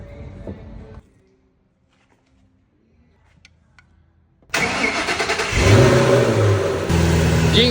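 A Ford Mustang GT500 V8 revs after a lifter knock repair, its engine roaring loudly and close in rising, sustained pulls following a quiet, rattly pause.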